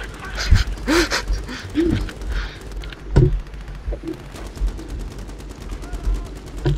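Rapid bursts of gunfire in Battlefield 3 crackle in quick succession with sharp isolated shots, while a voice makes brief sounds in between.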